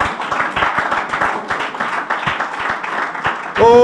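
A church congregation bursts into loud, sustained applause and cheering, a dense wash of clapping that fills the room, with voices mixed in and a short tonal flourish at the end.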